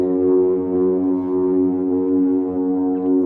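A droning tone from a Befaco Oneiroi modular synthesizer looper, rich in harmonics, cycles in a slow, looping motif, loud and steady with subtle shifts in texture.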